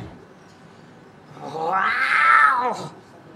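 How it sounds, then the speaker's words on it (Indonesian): A house cat lets out a single drawn-out, rising and falling meow, close and fairly loud, over quiet background. "Itu mah kucing rumah, bukan Panglima Kumbang itu."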